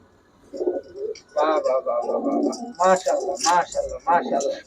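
Kaldam pigeons in a pigeon sale setting give soft, repeated cooing calls in short bursts, close by, mixed with someone talking.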